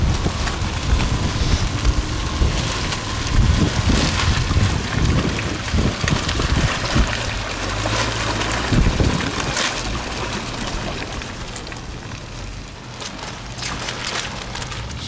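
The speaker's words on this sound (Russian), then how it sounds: "Штурмовой ветер." Strong storm wind roars steadily and loudly around an SUV during an off-road test, with gusty rumbling buffeting the microphone throughout and no talking.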